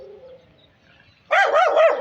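A dog barks loudly and repeatedly close by, a rapid run of harsh barks that bursts in after a quiet stretch with only faint background sound.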